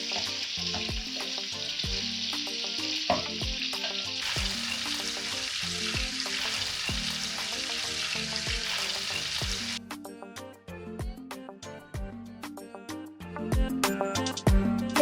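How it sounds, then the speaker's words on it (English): Chicken gizzards fry in a pan with a continuous close sizzle that crackles and pops throughout, with rhythmic soft thumps beneath and no talking. "now I'm going to fry these until it's perfectly brown."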